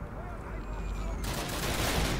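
Gunfire in the PC game Call of Duty: United Offensive, a loud burst of battle noise that swells into dense continuous shooting during the second half.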